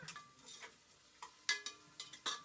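Tomatoes sautéing in a pan for pallikanji, with a quiet sizzle under intermittent spoon scrapes and stirring knocks, close and faint, with no talking.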